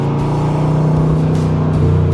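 A 1965 Corvette Sting Ray convertible with the L79 engine and a 5-speed upgrade revs hard after a downshift, a loud, close, steady V8 drone with a strong low hum and a rising pitch near the end.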